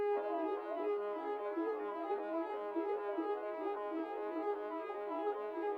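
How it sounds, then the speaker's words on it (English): A synth phrase from an experimental multi-genre music production sample plays alone, a bright sustained tone with shifting stepped notes and rich harmonics, continuous and steady in level throughout. "And then I added this new synth phrase in. It sounds like this."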